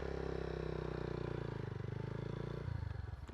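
A learner's motorcycle on CBT training idling and then pulling away gradually, a steady low engine drone that shifts as it moves off, with a brief clatter near the end.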